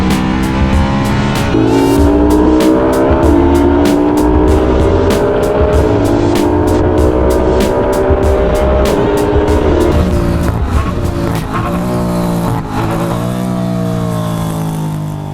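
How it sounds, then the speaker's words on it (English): A BMW E30 M3 track car with an S65 V8 engine and DCT transmission runs loud and close, its engine note climbing and falling through revs in a continuous roar. "this is my E30 M3 track car, which is powered by an S65 V8 engine and a DCT transmission"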